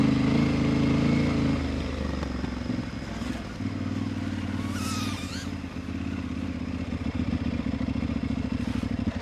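An adventure motorcycle pulls away after a tire change, its engine idling loudly up close before rising in revs and settling into a steady running drone, with some clatter and faint talk.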